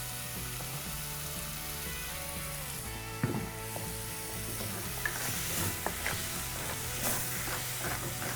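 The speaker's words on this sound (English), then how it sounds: "We're frying this in a tiny little bit of the sauce," Red peppers and sugar snap peas fry in a hot pan with a small splash of sauce, giving a steady close sizzle with clinks and scrapes of stirring throughout, and no voices.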